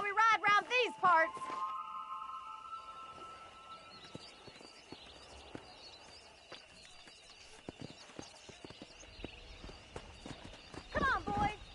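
Hooves clip-clop steadily at a riding gait in Red Dead Redemption, joined by a brief whinny and a few short voices at the start and end, with faint creaking tack and bird calls under the trot.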